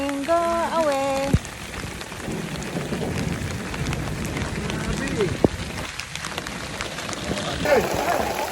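Steady rain falls outdoors at Mt Charleston, a constant hiss of drops on surfaces throughout, with a few sharp knocks and people talking briefly near the start and end.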